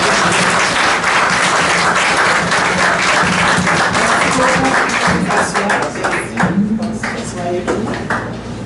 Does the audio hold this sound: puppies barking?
no